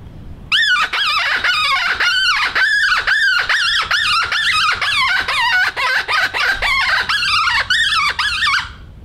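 A series of shrill, wavering squeals blown on a reed rabbit distress predator call, repeated in quick rhythmic bursts like a distressed small animal, loud and close.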